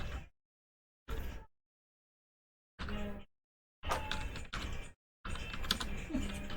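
Bursts of typing on a computer keyboard while writing in Notepad, with short clusters of close key clicks separated by silent pauses.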